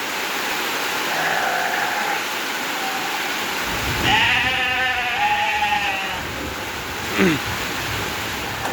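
Goats bleat at a goat farm, a wavering call rising clearly above a steady background hiss, with a shorter bleat following a few seconds later.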